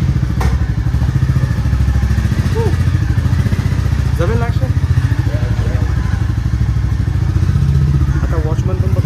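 A Royal Enfield Bullet motorcycle starts and settles into a steady, loud thumping engine rhythm close by, with brief clatters and thuds, as people talk over it.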